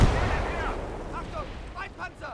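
A heavy tank cannon blast in the video game Call to Arms: Gates of Hell, firing a high-explosive shell, booms and rumbles away as it fades, and a voice speaks briefly near the end.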